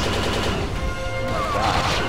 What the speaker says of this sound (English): We love to shoot the Stormies.